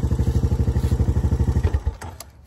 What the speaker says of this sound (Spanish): Ya apaga la moto para que salga bien.